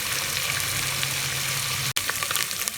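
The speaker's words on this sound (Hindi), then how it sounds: "तो इसके अंदर हम प्याज डाल रहे हैं।" Ground onion dropped into hot oil for Lahori chana fries with a steady, close, dense sizzle that cuts out for an instant near the end and then resumes crackling.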